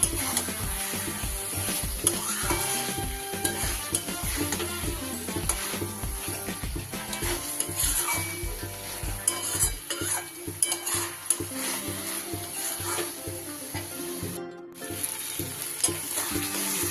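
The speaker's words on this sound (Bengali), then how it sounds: "এবার আমি ভেজে রাখা পটলগুলো দিয়ে দেব। ভালো করে মিশিয়ে নেব।" Pre-fried pointed gourd (potol) tossed back into oil for a vegetarian potol rezala, sizzling steadily up close while a spatula stirs and scrapes against the pan in frequent clattering strokes, with no voices.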